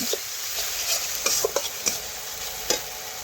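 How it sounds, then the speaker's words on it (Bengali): Spices with tomato, Kashmiri chilli powder and turmeric sizzle in a pan while a spatula scrapes and taps against the metal now and then, over a soft continuous frying hiss. "এখন সব কিছু একসাথে ভালোভাবে মিশিয়ে আমি কিছুক্ষণ কষে নিচ্ছি"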